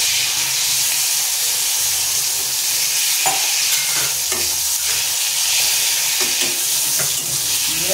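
Brinjal slices fry in a pan with a steady, close hiss and sizzle, broken by a few sharp clicks from stirring; no one speaks.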